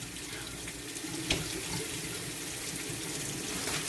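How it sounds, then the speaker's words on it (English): Water runs steadily from a tap to fill a bin for a guinea pig bath, a constant close splashing hiss with a brief clunk early on. "So I'm really making sure the water is a good temperature, because I'm going to fill up this bin"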